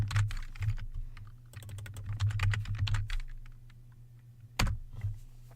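Fingers type quickly on a computer keyboard, close up, in dense bursts of key clatter with short pauses and one louder keystroke near the end.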